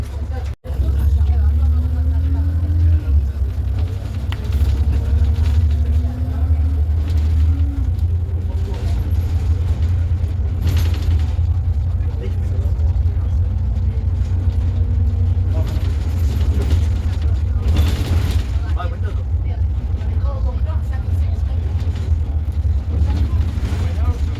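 A Transdev Keighley Volvo B7TL Plaxton President double-decker bus heard from the upper deck, its engine a loud, steady low rumble throughout with vibration and some voices in the background.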